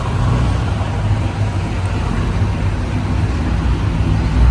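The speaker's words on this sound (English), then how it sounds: "car with the blower that came in. You can kind of hear it in the background" Supercharged engine with a blower at the 30th Pontiac Southern Nationals car show, a steady low rumble running in the background amid constant show noise and music.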